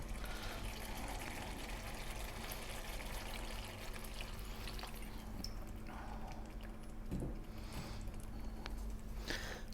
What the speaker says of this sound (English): What we're going to do now is just add a little bit of water.